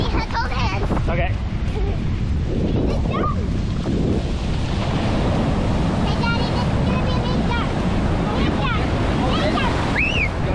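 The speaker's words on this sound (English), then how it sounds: "You want to go in the waves?" Ocean surf rolling onto Cocoa Beach, Florida, a steady broad wash of breaking waves with wind buffeting the microphone, while people talk and children call out nearby throughout.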